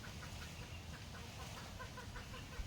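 Chickens cluck faintly and intermittently in the distance outdoors, soft repeated calls sitting beneath a steady background hiss.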